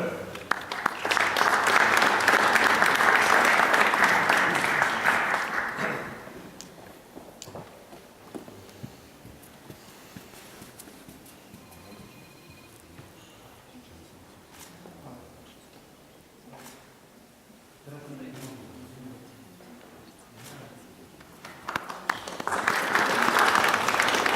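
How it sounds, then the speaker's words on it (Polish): Loud applause from an audience at a Polish exporters' congress award ceremony fills the opening seconds, fades to a quiet room with faint sounds, then clapping swells again at the end. "Brawa, zapraszamy."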